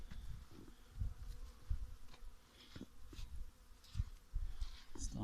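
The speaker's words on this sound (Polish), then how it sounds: "Troszkę słonko przygrzało i już pszczoły" Honeybees flying out of their hives in early February buzz steadily at close range, individual insects droning past in passes over a low outdoor background.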